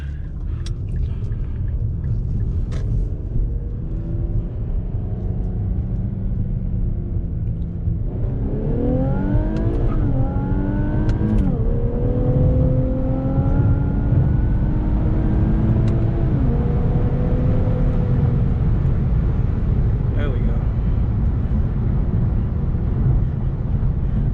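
A car's tuned VR30 engine revs up and shifts through first, second and third gears, the pitch climbing and dropping with each change over a constant deep rumble.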